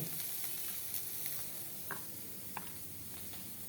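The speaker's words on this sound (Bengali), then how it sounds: "লুচি ভাজা হইতেছে" Luchi frying in hot oil in a home kitchen, a soft steady sizzle with scattered small crackles and pops, quiet and without talk.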